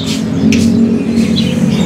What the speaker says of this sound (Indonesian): Untuk kenari loper gacoran.